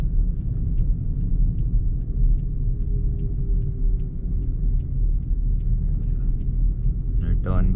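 A manual car cruising in second gear on an Indian road during a driving lesson, with a steady low engine rumble throughout and a brief voice near the end.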